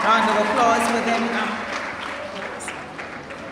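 A crowd claps for graduates at a primary school graduation ceremony, a dense burst of applause that gradually thins out over a few seconds, with voices mixed in.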